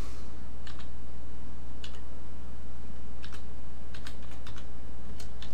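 Keys clatter on a computer keyboard as a search term is typed into a Visual Studio 2005 Express help screen, coming in several quick bursts of clicks over a steady background hiss.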